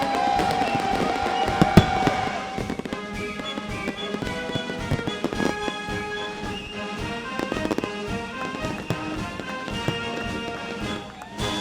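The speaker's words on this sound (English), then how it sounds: "fireworks over the club" Evening fireworks burst over a golf club at Liberty National, a dense run of popping cracks and booms from a distance, with music and crowd sound running underneath.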